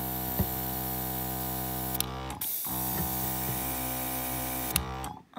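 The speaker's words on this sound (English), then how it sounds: "we're gonna spray the other side" A steady hiss of an airbrush spraying paint onto a fishing lure under a constant mechanical hum, cut by a couple of brief pauses and small clicks.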